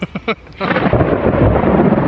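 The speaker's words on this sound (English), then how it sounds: "Hear that loud noise? There's some thunder." Thunder from a nearby storm: a deep, loud rumble that swells and rolls on over rain, following a few brief sharp knocks.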